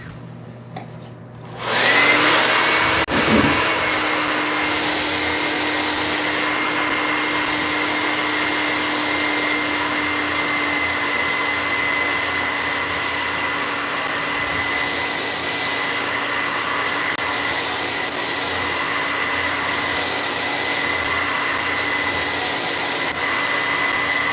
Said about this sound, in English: I'm gonna give it just a little bit here with the blow dryer.